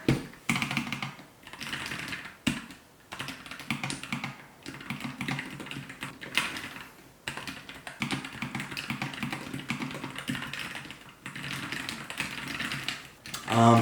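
Typing on a Keychron K3 Max mechanical keyboard, a dense run of close, crisp clacks in an uneven rhythm with brief pauses, going on for several seconds alone.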